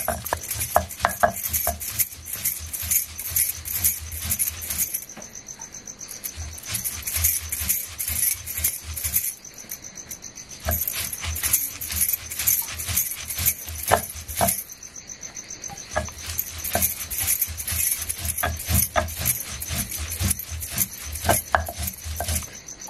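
Dried Bombay duck for chutney is ground on a flat grinding stone, producing rhythmic scraping and rubbing strokes in bursts with two short pauses, fairly quiet and close, with no voices.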